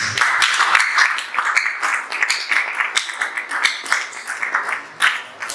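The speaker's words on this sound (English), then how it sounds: "One more time, shall we clap for this?" An audience at a hotel staff training session breaks into sustained applause, dense and close at first, then thinning into scattered claps near the end, with no speech over it.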